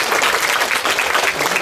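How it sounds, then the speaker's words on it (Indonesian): Schoolchildren at a community school in Kupang applaud a classmate together, a short, dense burst of many small hands clapping close by and loud. "Tepuk tangan dulu buat."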